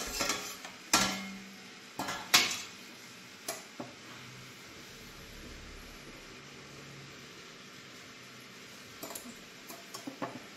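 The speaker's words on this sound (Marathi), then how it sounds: "आधी मी डिश खाली घेते" A dish is set down in a home kitchen while momos are being cooked, giving a few sharp ceramic clatters near the start and later, with quiet kitchen background between and no talking.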